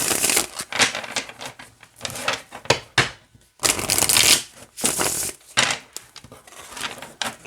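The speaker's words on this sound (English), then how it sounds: "Oh, yeah. Okay. Yeah, it shuffles beautifully." Someone shuffles a tarot deck, the cards riffling and slapping together in repeated bursts with short pauses between them, close and crisp.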